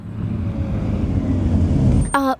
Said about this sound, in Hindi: सुनिए, जरा गाड़ी साइड में रोकिए।